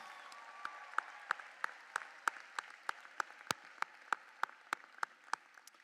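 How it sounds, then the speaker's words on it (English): Audience at the Springbrook Class of 2024 graduation clapping for the graduates: a steady, evenly spaced run of sharp claps, almost in unison, carrying on for several seconds with no talk. "Can we all raise our voices and clap our hands for these amazing graduates"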